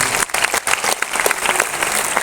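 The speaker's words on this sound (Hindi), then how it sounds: "एक बार ताली बजा सकते हैं अपने लिए" A seated audience at a motivational speech bursts into brief, dense applause, many hands clapping at once, loud and close with no talking over it.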